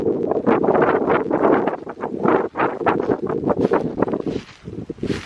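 Wind gusts buffet a mesh tent rigged with an 8-by-10-foot tarp and nylon material outdoors, a loud continuous rustling roar with flapping bursts that swells and dips, close to the microphone.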